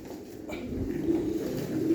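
Spotted pigeons coo close by in a continuous low, throaty rolling murmur, steady throughout and with no talk.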